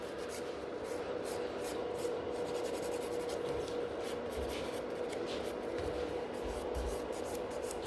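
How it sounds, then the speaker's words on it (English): Gel nails are filed with close, continuous rasping strokes, a steady scratchy rubbing texture with faint rhythmic pulses throughout and no talking. "after I have finished filing"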